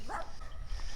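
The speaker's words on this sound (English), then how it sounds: "I know you can probably hear the dog barking." A dog barking at someone walking around a property under contract, heard as a short excited bark or yelp near the start, then a steady outdoor background.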